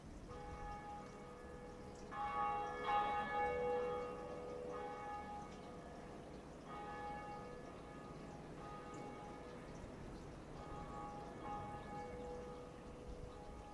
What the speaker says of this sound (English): coming up here is the first Bell of Awakening